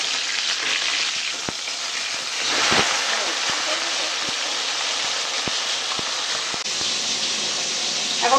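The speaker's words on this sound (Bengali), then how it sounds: "আর এদিকে মাছ ভাজছি।" Fish frying in a pan of oil beside frying brinjal, a steady broadband sizzle throughout with a few soft clicks and a brief louder surge near the middle, no talk.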